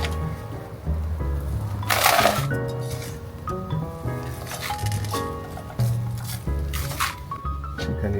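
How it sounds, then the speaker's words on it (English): Soil being dug out of a planting hole for transplanting tomatoes, cucumbers and peppers, heard as several scraping, crunching bursts spaced irregularly over soft background tones. "The first one I want to do is take some of the soil out."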